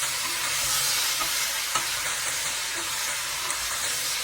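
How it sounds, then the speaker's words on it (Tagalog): Beef tripe and oxtail sizzle steadily as they fry in a pot, a dense hiss broken by occasional scrapes and clinks of stirring. "para medyo maprito-prito din yung mga tuwalya."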